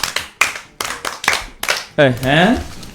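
A group of children clap in repeated bursts of sharp, near hand claps, pausing between rounds, before a voice speaks over the last stretch.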